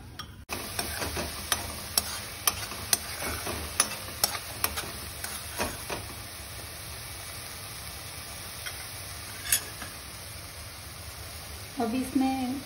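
Onions cook in a pan, with scattered clinks and scraping taps over a soft steady sizzle that settles into a quieter simmer, and a brief voice near the end.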